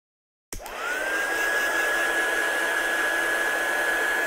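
A heat tool drying ink on a craft project switches on with a sharp click and settles into a steady, high-pitched whirring blow with a whistling tone, running continuously and alone.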